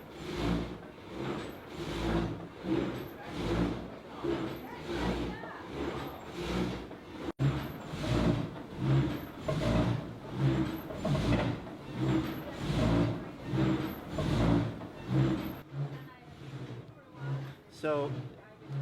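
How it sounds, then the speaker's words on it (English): A wind-powered sawmill cuts wood, its cutting arm driving steady rhythmic pulses about once a second as the whole mill vibrates, while someone talks over it throughout. "The entire mill is just vibrating under the power of the cutting arm."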